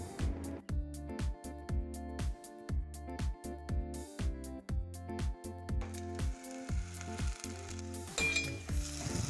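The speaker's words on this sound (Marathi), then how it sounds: "कांद्यामध्येच कढीपत्ता घाला आणि परतवा" Chopped onion and curry leaves fry in a pot for a prawn and drumstick curry, a continuous sizzle heard close up with a pulsing rhythm throughout and a faint clink of cookware near the end.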